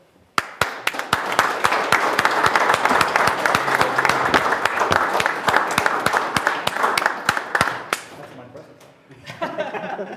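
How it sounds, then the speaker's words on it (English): Audience applause at a user group event after speeches, dense sustained clapping with sharp individual claps standing out, loud and close, thinning toward the end as a few voices begin. "this deserves, well, kind of applause"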